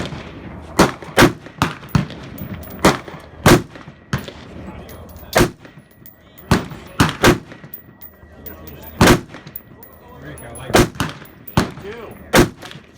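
An AR rifle fires at an outdoor shooting range, loud sharp single reports spaced irregularly, about a dozen cracks with brief echoing tails, and a voice speaking between some shots.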